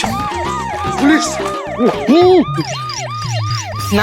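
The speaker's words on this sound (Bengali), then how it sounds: "পুলিশ না, ওটা অ্যাম্বুলেন্সের শব্দ।" An ambulance siren wails loudly and close by in a rapid rising-and-falling pattern, its tone repeating steadily throughout with no talk over it.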